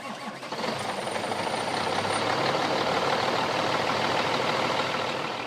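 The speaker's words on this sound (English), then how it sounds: "reconnect the battery and start the engine" A Cummins heavy-duty diesel truck engine cranks and catches, then settles into a loud, steady rumbling idle nearby.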